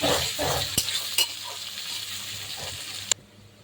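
Onions fry in a pan until they brown, a steady close sizzle with a couple of sharp utensil knocks before the sound cuts off abruptly near the end.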